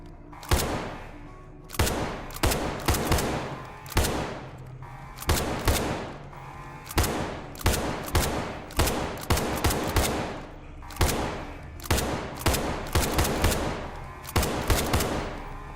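Gunfire from a weapon in the SCP 5k shooter game, loud, close single shots and short bursts fired at a steady, slowed rate with sharp attacks and brief decaying tails, no talking over them.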